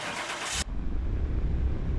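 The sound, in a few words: car engine starting in Car Mechanic Simulator 2021 video game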